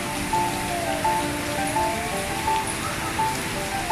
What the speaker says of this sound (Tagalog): Parang lalong lalakas pa ang ulan.